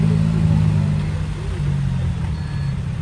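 A bulldozer pushing earth at a dirt work site rumbles with a deep, steady engine drone, close and continuous, with slight shifts in load and no talk.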